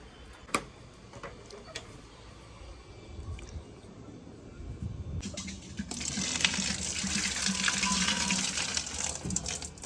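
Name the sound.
drinking water being filled from a tap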